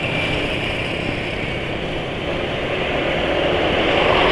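A motorcycle engine running on freshly changed Kendall GT-1 Max oil with liquid titanium gives off a steady, close, loud hum that holds even and builds slightly toward the end, with no talking.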